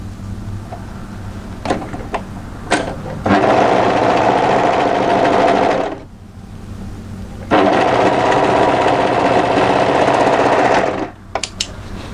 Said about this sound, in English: fold one of them right sides together and overlock that edge.